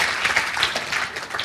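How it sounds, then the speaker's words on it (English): Audience applause at a seminar on infopreneuring, a dense steady wash of clapping from a room full of people, fairly loud and continuous with no talk over it. "Give him a big round of applause"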